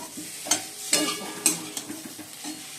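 Eggs sizzle in a frying pan as they are stirred, with several sharp scraping clicks of the utensil against the pan over a soft, steady frying hiss.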